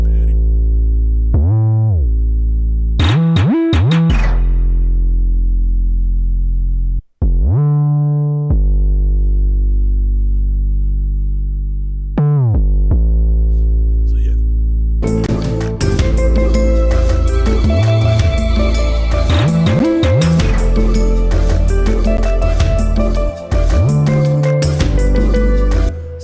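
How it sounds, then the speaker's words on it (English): FL Studio beat with deep booming 808 bass notes in a sliding pattern, first heard nearly alone with pauses, then joined by dense percussion and a fuller busy mix, loud and close. "So the bass, the 808 comes in with like some snare roll."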